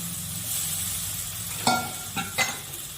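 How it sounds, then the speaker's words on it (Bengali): Spinach paste goes into spices frying in a pan for a Bengali spinach and prawn dish, giving a steady close sizzle, then a sharp wet splat and a couple of stirring scrapes, with no talking. "এখন পালং শাক বাটাটা দিয়ে দেব"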